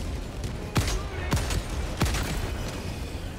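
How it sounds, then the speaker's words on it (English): Orbital barrage strike explosions in Helldivers 2 land in three distinct booming impacts spaced roughly evenly apart, each a sharp broadband blast over a constant rumbling battle background, fairly loud and close with no talk. "Requesting orbital! Firing orbital barrage."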